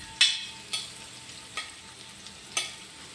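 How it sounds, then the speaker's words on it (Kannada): Ingredients frying in a pan for kaltappa, a soft steady sizzle with four sharp scraping stirs of a spatula at a regular pace, close and quiet, with no voices. "ಇನ್ನೊಂದು ಲೈಟ್ ಕೆಂಪು ಬಣ್ಣಕ್ಕೆ ಬರುವ ತನಕ ಇದನ್ನು ಫ್ರೈ ಮಾಡಬೇಕು"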